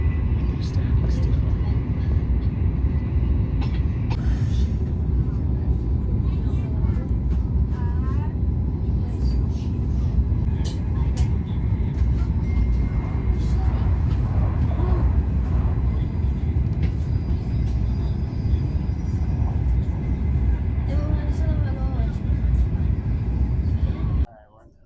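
Riding aboard a Trenitalia Frecciarossa high-speed train from Florence to Rome, a steady deep rumble and rushing hum fill the cabin throughout, with faint rattles and a voice speaking over the noise.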